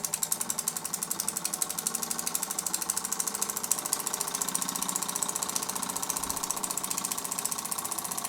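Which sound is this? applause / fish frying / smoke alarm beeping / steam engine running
steam engine running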